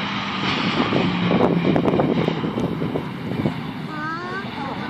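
A plane comes in to land at Prague airport, its broad engine roar steady and fairly loud against wind noise on the microphone, with people talking nearby.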